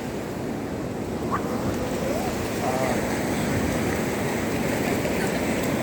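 Ocean waves roll and crash on the beach at Juhu Chowpatty early in the morning, making a constant loud, rushing roar with wind noise throughout.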